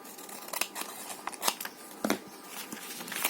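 Scissors snip through paper for an envelope folio in a quick series of close, crisp cuts, sharp and isolated with no talking.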